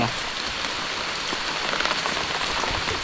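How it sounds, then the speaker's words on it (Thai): Steady rain pours down outdoors during a hunt for wild mushrooms, a dense, even hiss of drops hitting surfaces, loud and continuous with no voices. "ฝนตกดีขนาดช่วงนี้พี่น้อง ตกอีกแล้ว"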